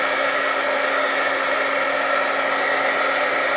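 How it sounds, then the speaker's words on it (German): Heat gun blowing hot air to dry paint on a craft project, a steady, loud, continuous whirring hiss held at an even level throughout with no talking. "beziehungsweise mit dem Heißluftföhn föhnen"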